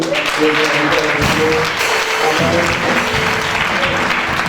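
A church congregation claps and cheers loudly during a worship service, with a continuous roar of applause and voices throughout.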